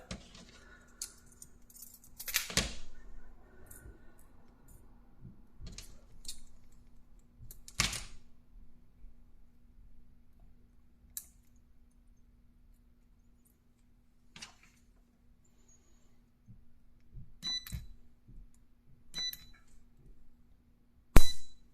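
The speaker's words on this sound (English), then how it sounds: "that is spot welded, so we can unplug this" A small, cheap handheld spot welder working on a camping lamp: sparse sharp snapping cracks and clicks scattered across long quiet stretches, with a faint steady electrical hum underneath and a final louder snap near the end.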